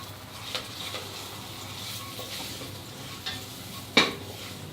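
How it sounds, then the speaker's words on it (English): Spices such as turmeric, Kashmiri chili and coriander powder lightly roasting in a pan, with a soft steady sizzle, a few faint scrapes of stirring and one sharp utensil clink near the end. "You just need to lightly roast it for about a minute so that the raw flavor of the spices are diminished"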